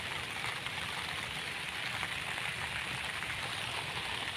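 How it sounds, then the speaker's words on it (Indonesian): Heavy rain pouring down on a melon garden, a dense, steady hiss of countless drops striking leaves and ground, fairly faint and even throughout, with no voices. "Tapi maaf ini kondisinya betul-betul hujan ini teman ya."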